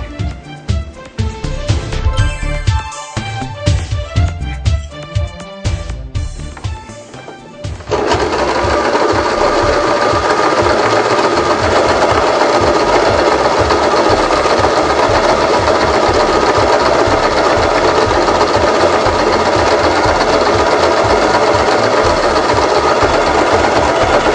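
A Janome 1117S sewing machine runs straight stitches, first in short uneven bursts with brief pauses, then in one long steady whirring run, loud and close with no talk.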